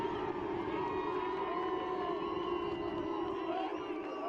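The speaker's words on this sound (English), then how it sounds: "He gets the boo cheer." Distant, fairly faint crowd noise at a college lacrosse game between Utah Valley and BYU after a goal, a steady mix of cheering and booing voices with no clear peaks.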